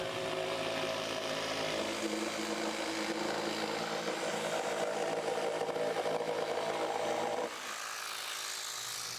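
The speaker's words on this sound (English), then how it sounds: "you're going to use a jigsaw to cut it again" Jigsaw cutting through old pine boards, a loud continuous buzzing motor drone with a rattling blade that runs steadily and then drops in level near the end.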